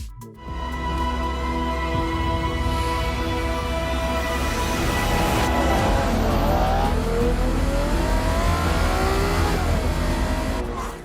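Naturally aspirated V12 of a Ferrari Purosangue SUV revving and accelerating, a loud close wail that climbs through rising pitch sweeps over roughly ten seconds after a short start.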